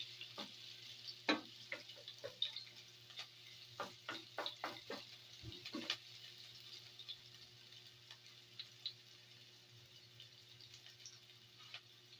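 Onions fry in a pan for ginataang tokwa with kangkong, making a soft, faint sizzle broken by sharp ticking pops and clicks that cluster early and then thin out, with a low steady hum underneath.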